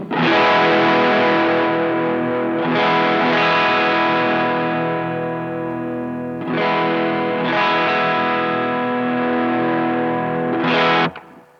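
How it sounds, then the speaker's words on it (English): Electric guitar played through a Guyatone TD-1 tube distortion pedal, chords ringing out in three loud sustained strums that shift from crunchy to heavily saturated, with no voices. "it goes from mild crunch and suddenly into heavy distortion"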